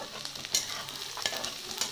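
Onions fry in a pan for an onion egg burji, a close, continuous sizzle with a few stirring scrapes and clicks of a spoon, no voices.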